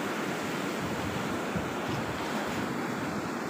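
Big ocean waves surge at the shore in a steady, rumbling roar with wind buffeting the microphone. No voices are heard.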